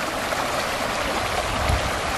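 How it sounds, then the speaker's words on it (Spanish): Murky stream water runs beneath a small footbridge in a park, a close, loud and unbroken rushing gurgle with no talking. "Aquí como corre el agua"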